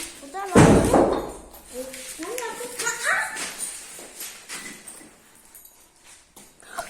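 A heavy door slams with a loud thud near the start, followed by people talking excitedly and a dog whimpering faintly.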